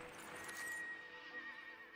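A horse in a VR video game whinnies with a rising, breathy cry, close and clear, then fades into a quieter tail with faint hoof-like clatter.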